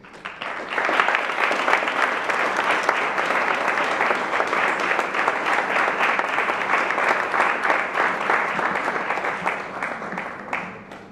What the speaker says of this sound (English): shall we welcome, with a round of applause, Ya Ogwabi Osei Mensah